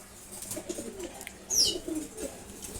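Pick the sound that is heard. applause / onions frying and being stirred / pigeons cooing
pigeons cooing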